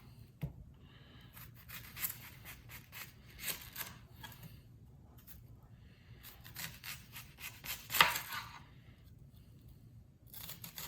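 A knife chops onions with uneven bursts of crisp, close cuts, separated by short pauses, and a few louder strikes land against the board.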